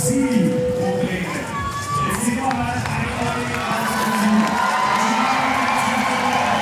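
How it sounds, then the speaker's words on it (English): Crowd cheering at a women's bouldering semi-final in Innsbruck for climber Garnbret, a steady, dense roar of many voices with shouts and whistles, sustained throughout under a commentator's talk. "that cheer was for Garnbret"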